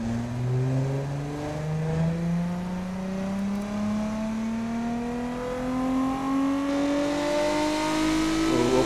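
A small-displacement naturally aspirated V6 in the racing game Automation revs steadily upward, a smooth rising drone that climbs continuously and loudly without pause.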